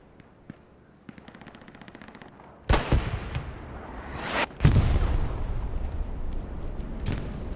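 Bombing run explosions in the competitive World War II shooter Hell Let Loose, on the Foy map front line: light scattered pops first, then two huge blasts that roll into heavy sustained rumbling and crackling, with no talk.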